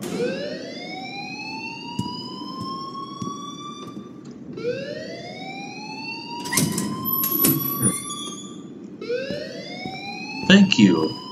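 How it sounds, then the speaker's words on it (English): Fire alarm in the video game Life is Strange: a loud rising, sweeping electronic siren that repeats in long cycles, with clatter and bursts of noise in between. "please turn off that alarm"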